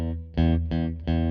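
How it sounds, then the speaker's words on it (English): An electric guitar played through a Catapult distortion pedal at low amp volume rings out in three thick, sustained distorted chords, each struck and held briefly, loud and close with no talking. "if we're going to do a distortion tone, I'll use the catapult"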